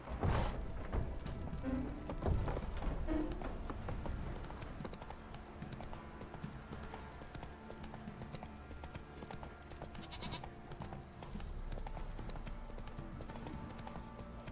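The horse Roach trots through the video game The Witcher 3, its hooves clip-clopping in a steady, even rhythm close by, with a faint snort near the start.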